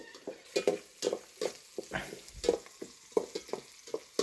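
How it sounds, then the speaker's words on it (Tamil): Onions fry in a pan for a Chettinad country chicken curry while a spoon stirs them, giving a steady sizzle broken by rhythmic scraping and knocking strokes, close and with no talking. "வெங்காயம் வந்து பார்த்திங்கன்னா நல்லா வதங்கட்டும்"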